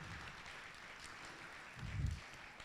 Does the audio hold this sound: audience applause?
yes